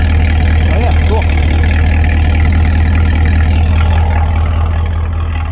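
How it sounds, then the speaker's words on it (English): A modified 2022 Camaro SS 1LE with a V8 and aftermarket headers idles with a loud, deep, steady rumble, close up and constant throughout, while a voice speaks briefly near the start. "Yeah, the idle's so much more aggressive."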